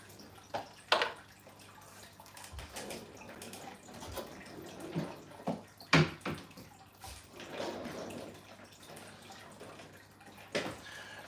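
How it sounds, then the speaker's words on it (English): Fresh water is poured in to top off an aquarium after maintenance, a quiet, steady trickle broken by several louder splashing gushes at irregular intervals. "just going to top off the water now with some fresh water"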